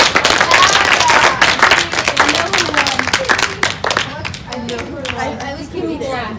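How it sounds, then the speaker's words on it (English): Students applaud after a classroom panel, with loud, busy clapping at first that gradually thins out as children's voices and chatter rise through the room. "we'll give them a round of applause."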